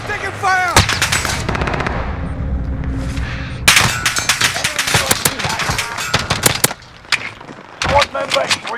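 Video game gunfire in a first-person shooter, dense rapid volleys of near, loud shots with metallic clangs and short pauses, mixed with players talking over voice chat.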